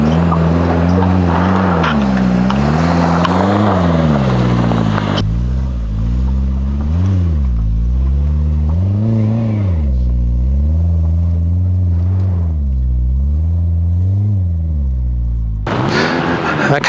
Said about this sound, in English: So this is going through the ruts, which is not the Suzuki line, but just correct use of momentum.